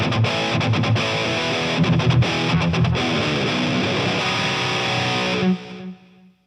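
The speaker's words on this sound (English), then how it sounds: "I achieve that by switching on state 4, which turns on the whammy pedal for me" Electric guitar run through a whammy pedal for a dropped, baritone-like pitch, played with heavy distortion as dense sustained chords with a few choppy stops, then cut off near the end leaving a ringing tail.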